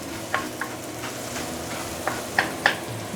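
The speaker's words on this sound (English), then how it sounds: "So this is after approximately 2-3 minutes sauteing. Scraping the bottom a little bit." Spoon stirring and scraping the bottom of a pot as curry ribs sauté, steady sizzle with several short scraping clicks spread through, no talk.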